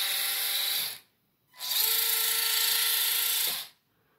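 An Axial SCX24 RC crawler motor runs at top speed with a stock spur gear, giving a high, steady electric whine in two close bursts separated by a short silence.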